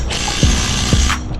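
Ratchet spanner tightening a scaffolding coupler, a close, loud run of rapid clicking from the pawl with a few sharper metallic clicks, heard alone.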